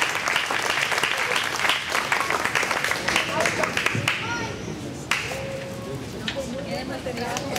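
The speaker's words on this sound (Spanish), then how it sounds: "un aplauso" Audience applause for invited guests at a charity furniture-donation event, crisp individual claps close by, tapering off midway as a voice begins speaking over the scattered remaining claps.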